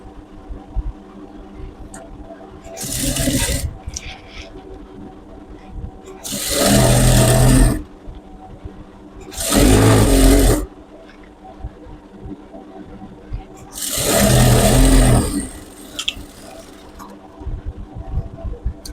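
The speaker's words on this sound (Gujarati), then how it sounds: "સીધો ભાગ કરીને થોડી થોડી સિલાઈ મારી લેવાની, જેથી કરીને વ્યવસ્થિત કવર સિલાઈ થઈ જાય" Four separate bursts from a sewing machine stitching salwar fabric, each whirring run lasting a second or two, with quiet pauses and faint handling noises between them.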